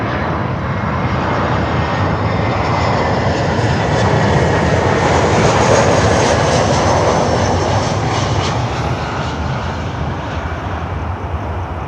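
Delta airliner, flight 320, passing overhead on approach at a busy airport, a loud steady jet engine roar that swells and holds broadband throughout, with no talk.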